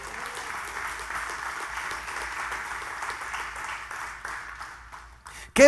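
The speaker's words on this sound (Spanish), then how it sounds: "Dale un aplauso a Dios por eso." A church congregation claps steadily during a sermon, a continuous wash of applause that tapers slightly toward the end before a brief loud thump.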